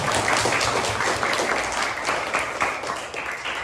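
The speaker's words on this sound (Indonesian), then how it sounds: "kita beri aplaus dulu kepada Amelia." A class of junior high students applauds a classmate in a religious studies lesson, a steady wash of many hands clapping close by for a few seconds without pause.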